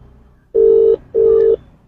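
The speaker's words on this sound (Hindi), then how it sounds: "मैंने उनको कॉल मिला दिया है।" An outgoing phone call rings out over a speakerphone, with two identical steady ringback tones separated by a short gap, loud and close with no voices.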